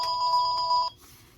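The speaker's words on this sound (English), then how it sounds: "Excuse the phone." A telephone rings once in a hair salon during a balayage colouring session, a bright electronic trill lasting under a second before cutting off, loud and close with no speech.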